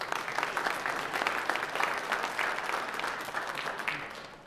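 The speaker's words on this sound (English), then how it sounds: "Let's give them a round of applause." A church congregation applauds the children at a Sunday worship service, a steady wash of many hands clapping throughout, moderately distant and fairly even in level, tapering slightly at the end.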